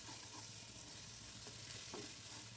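Leftover spice masala from a chicken chaap marinade fries in a pan, giving a steady close sizzle with faint stirring scrapes throughout, no voices.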